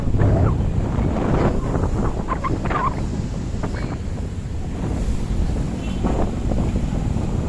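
Strong sea wind at Dolomite Beach buffets the microphone in a steady, loud roar, with faint surf and activity beneath it.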